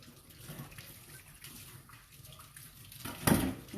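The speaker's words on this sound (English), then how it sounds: "I'm looking at the water to see if the water is running clear." A paintbrush is rinsed under running tap water in a sink, giving a steady soft splashing hiss with a louder burst of water near the end, heard alone.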